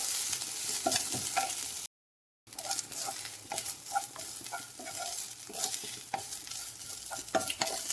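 Grated coconut is roasted and stirred in oil in a pan for a drumstick dal curry. The spatula scrapes and sizzles up close in a steady rhythm, with one brief break of silence.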